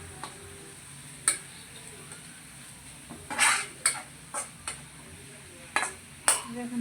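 Onion tempering poured into lentil dal for an egg and potato dal, giving a soft steady sizzle under scattered clinks and scrapes of a metal spoon against the pot.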